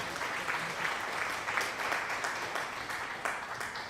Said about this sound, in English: Distract Murph with some applause